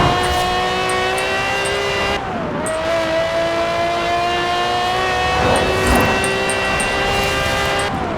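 A classic red Ferrari F50 in Forza Horizon 4 drives with a loud, high-pitched engine whine that holds steady and shifts pitch through gear changes, close and continuous, with faint tire noise along the way.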